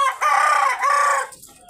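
A large-combed black rooster on a poultry farm gives one loud, close crow lasting just over a second, with a short dip in the middle and no talk over it.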